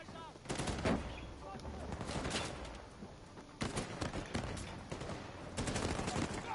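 Gunfire in Uncharted 4, with rapid automatic bursts and single shots popping in clusters at moderate loudness amid game action sounds, while a voice talks briefly.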